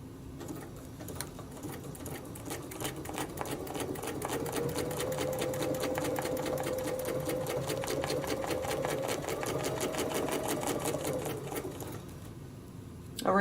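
A sewing machine stitches a leaf shape onto a feathered-friends quilt, running in a steady, fast mechanical rhythm for most of the stretch before slowing and stopping near the end, close and fairly loud with no talking.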